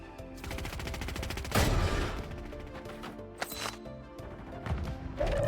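Gunfire in the Call of Duty Warzone video game: repeated loud shots and cracking bursts over a busy background of game sound, with a few sharper impacts standing out.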